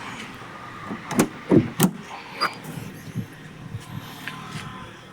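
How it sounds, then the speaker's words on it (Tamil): The rear hatch of a Maruti Omni van is unlatched and opened outdoors, with a few close mechanical clunks and rattles followed by fainter knocks, no talk. "டிக்கி ஓப்பன் பண்ணி காட்டுறேன் பாருங்கள்"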